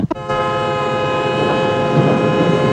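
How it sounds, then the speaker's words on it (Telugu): A Godavari Express passenger train pulls into a station platform with a loud, sustained horn blast over the deep rumble of rolling carriages, close and continuous throughout. "ట్రైన్ నెంబర్ 7007 గోదావరి ఎక్స్ప్రెస్ 4వ నెంబర్ ప్లాట్ఫామ్ మీదకు వచ్చి ఉన్నది"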